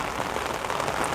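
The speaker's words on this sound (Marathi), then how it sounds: "सकाळपासून असाच पाऊस चालू आहे" Heavy monsoon rain in Nashik district pours down steadily, a dense close hiss of drops striking surfaces with no pauses.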